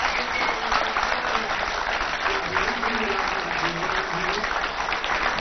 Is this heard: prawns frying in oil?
no